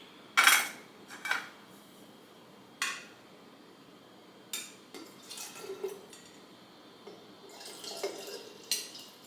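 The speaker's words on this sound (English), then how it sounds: "now we put the SCOBY in with the starter." A kombucha SCOBY goes into a glass jar with starter liquid, marked by a string of faint clinks and taps of glass and utensils, with soft drips and a little sloshing spread across a quiet room.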